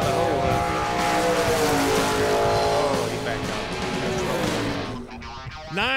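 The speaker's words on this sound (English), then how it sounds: "Spinning the wheels a little bit there, but he's getting off pretty good" A drag race car launches hard with brief wheelspin, its loud engine roar rising in pitch as it pulls away, while a commentator talks over it.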